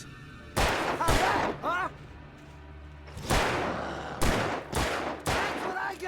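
Gunfire in Alan Wake Remastered, several sharp, loud shots in two bursts with echoing tails and quieter gaps between them, and a voice briefly speaks among the shots.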